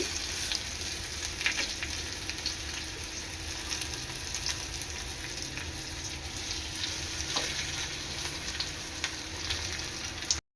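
Garlic, curry leaves and bangda mackerel sizzle and crackle in hot oil, a steady dense frying hiss with scattered pops running throughout without any talking.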